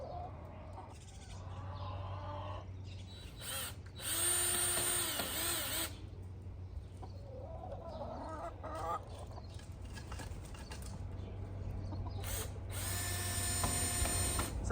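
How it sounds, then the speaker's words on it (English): Power drill driving screws into the wood of a chicken coop, several whirring bursts of a few seconds each, with chickens and other fowl clucking and calling around it outdoors. "And then he'll just screw the screws right in"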